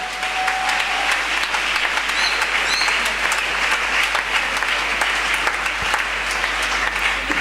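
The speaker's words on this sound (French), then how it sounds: "On peut s'acclamer." Church congregation applauding loudly and continuously, a sustained dense wash of clapping from a large gathering with a few faint voices mixed in.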